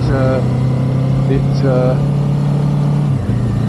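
A Kawasaki Ninja 7 HEV hybrid motorcycle engine keeps up a steady low hum beneath someone talking, dipping slightly in pitch near the end.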